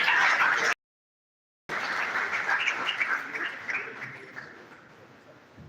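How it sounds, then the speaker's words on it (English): An audience applauds for a Vice Chancellor at a university campus talk, a dense clatter of clapping that cuts out briefly, then returns and slowly thins as it fades. "Please another round of applause for the Vice Chancellor."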